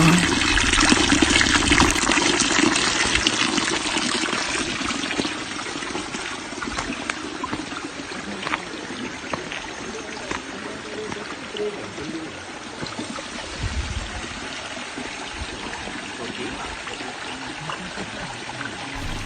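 Waterfall and river stream on a hike, a steady, loud rushing and splashing of flowing water heard close up throughout.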